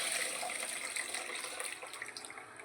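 Tamarind extract poured into a simmering fish curry gives a continuous, fairly close liquid gush and splash with no pause, heard alone without any talk.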